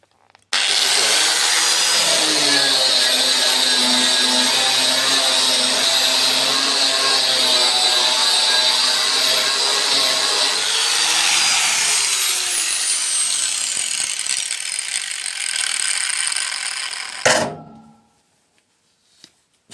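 A sponge polishing disc on a power tool grinds painted metal down to bare steel, a loud, steady high whir with scraping friction that runs for about seventeen seconds before abruptly stopping.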